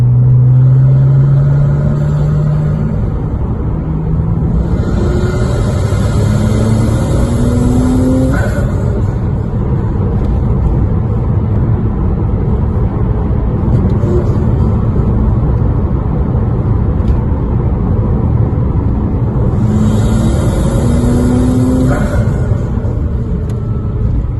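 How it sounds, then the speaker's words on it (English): A Porsche Cayman 2.7 converted to twin turbo drives on wet, icy roads. The cabin fills with a low engine rumble, revs rise and fall in two bursts, and turbo whooshes and hisses follow, no voices. "Like the boost sounds are really quite audible in the cabin."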